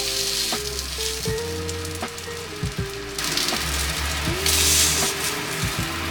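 Fish cooking skin-side down on a grill pan, with a close, steady sizzle and spatter, broken by several sharp clinks and scrapes as it is pressed and turned, with a brighter hiss surging near the end.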